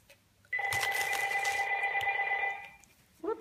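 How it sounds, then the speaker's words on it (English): A phone rings indoors during a birthday craft session, one sustained electronic ringing burst lasting about two seconds, fairly close and clear, then cut off before a brief sound at the end. "we forgot to turn our phone off"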